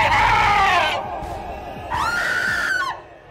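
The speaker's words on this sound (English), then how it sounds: "Her scream was blood-curdling." A woman screams in terror, two long, loud, wavering shrieks separated by a brief gap, set against a noisy room during a paranormal scare in a hospital.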